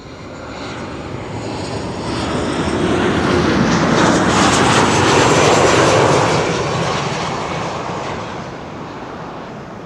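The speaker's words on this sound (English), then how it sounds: "This is KLM flight 1042, arriving from Birmingham." KLM flight 1042 from Birmingham arriving at Amsterdam Schiphol Airport, a steady airliner engine roar that swells to a peak near the middle and slowly eases, heard alone from a spotting position.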